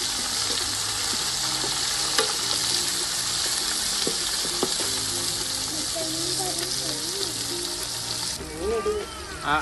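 Sliced onions fry in hot oil in a pan as they are stirred, with a loud continuous sizzle and clinks of the spoon, and background music plays underneath.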